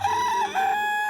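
A neighbouring rooster crows once, a loud, drawn-out cock-a-doodle-doo with a rising and falling call, close and clear with no talk.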